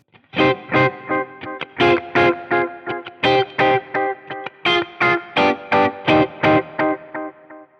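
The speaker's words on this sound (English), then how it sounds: "there's another one in here that is modeled after the carbon copy, and that's called the graphite copy delay" Rhythmic electric guitar chords through the Axe-Fx III Graphite Copy delay, modeled on a Carbon Copy, with gritty, darkened repeats, played in short repeated stabs with echoes trailing between them.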